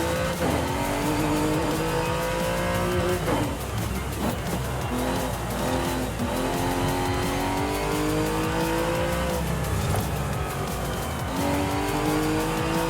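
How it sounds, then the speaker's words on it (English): A race-tuned car engine in Forza Horizon 5, heard from inside the cabin, revs hard and climbs through its gears again and again, with shifts and brief tire squeals under a loud, continuous drone. "this engine does sound really nice inside the cabin"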